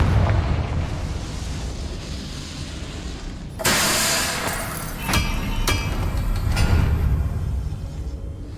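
Confringo fire spell blasting in Hogwarts Legacy, a sudden loud whooshing explosion partway through followed by a few sharp crackling bursts over a rumbling game soundscape.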